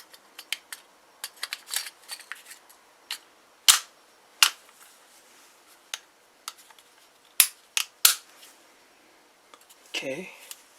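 Sharp pistol shots from a handgun fitted with grip tape, several loud cracks spread unevenly among lighter clicks and handling noises, with a brief voice near the end.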